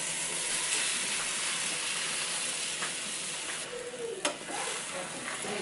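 Eggs sizzle and fry as they're stirred into warm seasoned ground beef in a pan, a steady close crackle with a few scraping utensil sounds near the end.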